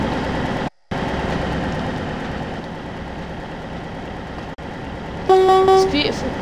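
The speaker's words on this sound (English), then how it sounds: "Make sure to start using that horn." A train horn sounds in Train Sim World 2 on a Taunton shuttle run, a loud sustained tonal blast near the end over a constant engine and track rumble.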